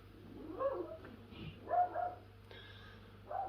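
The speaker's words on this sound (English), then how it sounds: "Dog's barking." A dog barks indoors in three or four short, muffled yaps spaced about a second apart, moderately distant and fairly faint against a low steady hum.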